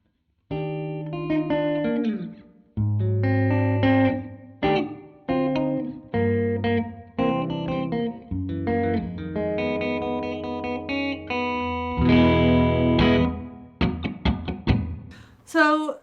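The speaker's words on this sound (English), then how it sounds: "So that is kind of like a hall-ish reverb." Elvis Costello Signature Jazzmaster electric guitar played through a Pigtronix Cosmosis stereo reverb pedal on a hall-style setting, clean picked notes and chords ringing out with a lingering reverb tail, loud and alone.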